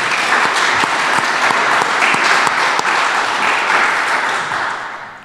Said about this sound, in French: Applaudissements pour Aurélien Deleu.